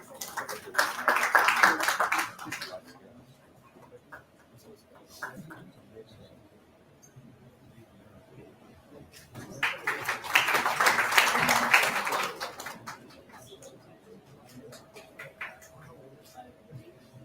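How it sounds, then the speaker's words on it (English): An audience at a university induction program breaks into applause twice, each burst of clapping lasting a few seconds, with quieter stretches and some talk in between. "A round of applause for sir."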